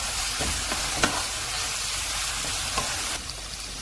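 Rice ingredients with soy sauce, black pepper and salt fry in a pan for Singaporean rice, giving a loud, continuous hiss and sizzle broken by a few stirring taps.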